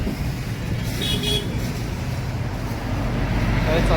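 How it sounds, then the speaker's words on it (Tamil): Vehicles pass steadily on a busy road with a constant traffic roar, a short car horn toot sounding briefly near the middle, all continuous and fairly loud with no clear talking. "பால் ரோடு முருகு ரோடு எவ்வளோ வண்டி வந்து போகிறாங்க"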